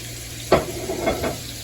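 Butter and oil sizzle in a pan on a stove for chicken Alfredo, a soft steady hiss broken by a few brief stirring scrapes close by.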